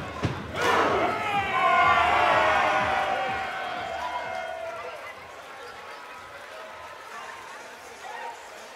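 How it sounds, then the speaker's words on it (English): Crowd at a chessboxing bout cheering and roaring loudly, surging early then easing into a sustained, lower murmur of voices and shouts. "The crowd are really getting into this now"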